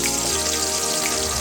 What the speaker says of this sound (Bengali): এবার আমি একে একে মাছগুলো তেলের মধ্যে ছেড়ে দেব।